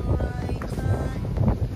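Gusty wind buffets the microphone at a windy fishing spot, a low rumbling roar that rises and falls in short bursts. No speech is heard.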